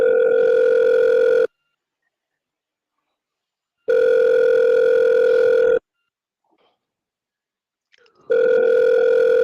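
Telephone ringback on an outgoing call, two long steady ring tones separated by silence, with a third ring beginning at the end, loud and clear with no talking.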